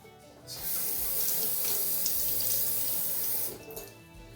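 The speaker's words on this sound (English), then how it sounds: "Don't worry about getting all the water out when you drain it here, because we're going to put more water in it." Water pours steadily from a jar of sprouting seeds into a kitchen sink for about three seconds, close and fairly loud, then stops, with no talking.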